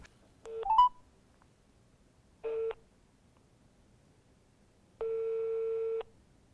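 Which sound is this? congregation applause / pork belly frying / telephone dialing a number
telephone dialing a number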